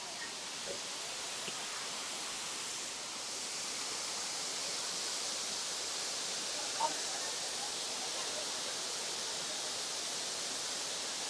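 Erawan waterfall in a Thai national park at Kanchanaburi, heard as a steady, broad hiss of falling water that holds even throughout, with faint scattered sounds on top.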